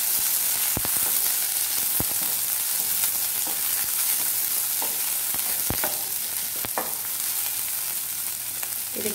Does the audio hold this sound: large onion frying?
yes